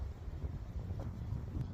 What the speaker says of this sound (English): despite the chilly weather and the wind